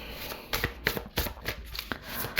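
Tarot cards being shuffled close up, a series of quick riffling flutters and soft slaps in an uneven rhythm.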